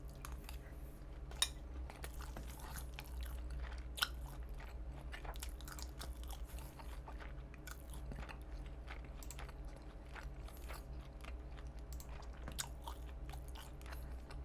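Someone chews and eats bulgogi close to the mic, with soft wet bites and crunches repeating steadily over a constant low hum, and no talking.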